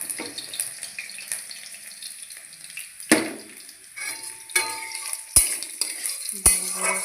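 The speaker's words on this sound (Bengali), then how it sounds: "ভালো করে কাঁচা লঙ্কাগুলোকে ভেজে নেব" Green chilies and black cumin fry in mustard oil in a home kitchen, a soft continuous sizzle with scattered clinks and scraping stirs, some sharp utensil knocks standing out.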